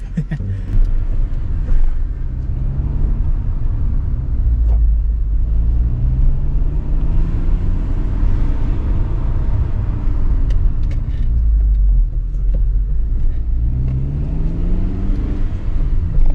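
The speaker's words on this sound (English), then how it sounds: "let's go for a test drive and see how it goes" Interior rumble of a Honda Civic Si driving on a test drive after a brake line upgrade, the engine rising in pitch as it accelerates through gears, with low road noise throughout.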